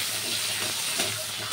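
Potatoes and chilli fry in hot oil with five-spice, giving a steady close sizzling hiss that runs unbroken and fairly quiet throughout, with no talking.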